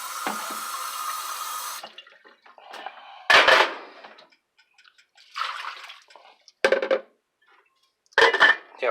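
Water poured from a container into a pot of simmering chicken and rice noodle stew, a running splash that stops, then several short bursts of pouring and trickling with quiet gaps between.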